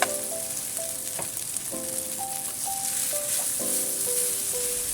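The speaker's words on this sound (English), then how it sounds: "Then we stir fry" Bell pepper and onions fry in a pan for turmeric chicken, giving a loud, steady sizzle throughout with light scraping stirs and quiet musical notes playing underneath.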